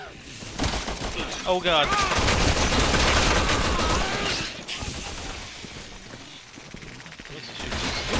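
Rapid bursts of gunfire and machine-gun fire in the co-op video game Resident Evil 6, loud and continuous with occasional shattering, while players shout and talk over the shooting.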